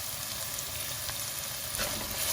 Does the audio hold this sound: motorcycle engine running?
no